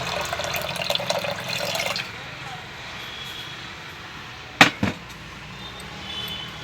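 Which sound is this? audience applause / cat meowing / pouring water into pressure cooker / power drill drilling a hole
pouring water into pressure cooker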